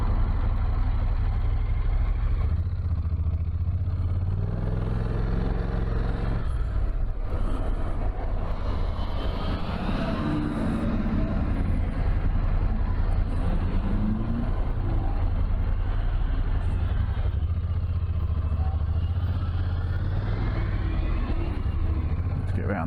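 Road traffic crawling through road closures on the way to a camping trip, heard from a motorbike: a steady low engine and vehicle rumble runs throughout, with idling and passing cars and trucks close by.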